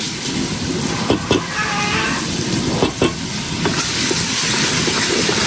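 Onions, garlic and ginger fry in a pan for a beef dish, a loud, dense sizzle broken by a few sharp stirring knocks, continuous and close.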